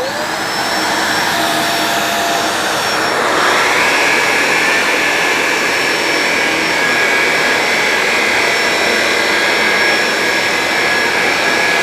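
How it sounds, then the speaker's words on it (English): Shark Navigator Lift-Away vacuum with the Zero M head cleaning a rug: a loud, steady whine runs throughout and its pitch shifts slightly as the machine moves. "let's finish cleaning this rug with the Navigator with the Zero M cleaner head."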